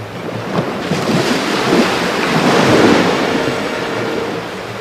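Sea waves break on a beach in a steady roaring wash, a broad surging rush that swells toward the middle and eases again, mixed with wind buffeting, with no voices.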